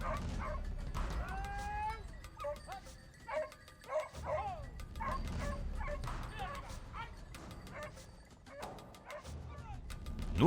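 Hunting dogs yelp and bark in short, excited bursts during a Spanish montería driven boar hunt at La Ropera, with whining cries rising and falling over steady outdoor background noise.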